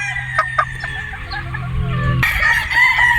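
Clucks and crowing calls come from a Boston Roundhead gamefowl rooster and other chickens nearby, layered sounds close and fairly loud, with a sharper burst of fowl noise toward the end.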